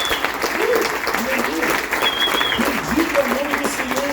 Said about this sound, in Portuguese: Aplauda o Senhor Jesus, dos mares.